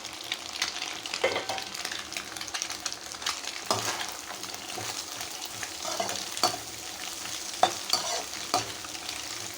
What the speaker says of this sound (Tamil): இப்போ இந்த கோஸு நல்லா ஃப்ரை ஆகட்டும்